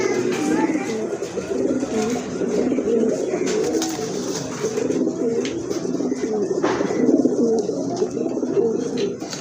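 Pigeons coo steadily and densely in a pigeon seller's godown, a continuous layered murmur of many birds close by, with occasional brief rustles and faint voices in the background.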